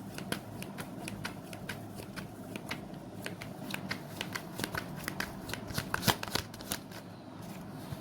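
Tarot cards are shuffled and drawn in a steady run of crisp, close riffling snaps and slides, quiet and continuous across the whole stretch, with no talk over them.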